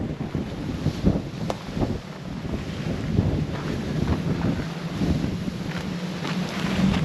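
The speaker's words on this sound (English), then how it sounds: "That wind is crazy. I never heard wind that sounds like that." Strong gusty wind roars and buffets the microphone continuously, a heavy low rumble with no voices, at an abandoned historic mining town in New Zealand.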